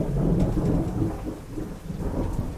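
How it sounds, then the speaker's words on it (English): Heavy rain with deep rolling thunder, a loud steady downpour with low rumbles swelling and fading throughout, with no voices. "Yep, it is still raining."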